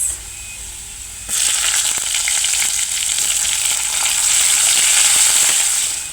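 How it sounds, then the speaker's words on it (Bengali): Garlic and onion fry in hot oil in a pan, a loud steady sizzle that jumps sharply in intensity partway through and then holds a dense crackling hiss to the end. "আচ্ছা রসুনটা যখন এরকম হালকা ব্রাউন হয়ে যাবে তখন দিয়ে দিব পেঁয়াজ"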